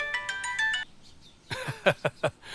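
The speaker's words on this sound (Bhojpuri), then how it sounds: "सिद्धार्थ साहब के फोन।" A phone ringtone plays a short run of bright, repeating electronic tones, then stops and a voice starts talking.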